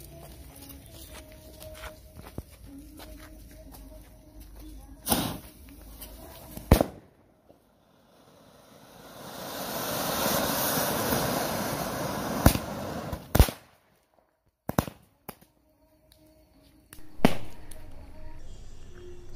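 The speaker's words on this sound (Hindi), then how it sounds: "सो नेक्स्ट आता है अनार प्लस टू साउंड जो कि बहुत ही अमेजिंग टाइप का चलेगा" An Anar Plus Two Sound firecracker fountain being set off: a long rushing hiss of spraying sparks with sharp loud bangs and pops before, during and after, nearby and outdoors.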